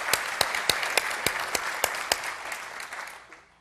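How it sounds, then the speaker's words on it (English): An audience at a county government State of the County address breaks into applause, a sustained wash of clapping punctuated by sharp distinct claps, gradually thinning and fading out at the end. "he does deserve a round of applause."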